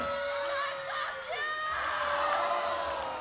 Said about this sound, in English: The crowd's behind her.